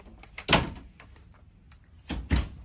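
A well-made drawer in a camper is worked, giving a soft slide and a firm thump, then two more knocking closes a moment later, close by and otherwise quiet.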